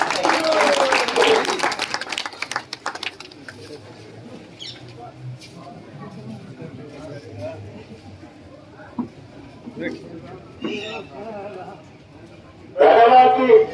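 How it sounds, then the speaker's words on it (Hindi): A crowd in a Mahendragarh village claps to welcome Om Prakash Chautala, a dense burst of applause at the start that thins out and fades, followed by quieter talk and a short loud burst near the end. "ताली बजा करके स्वागत।"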